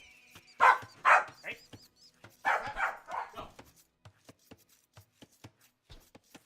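A young, very active pet dog barks a few times close by in an indoor setting, followed by sparse soft clicks and taps.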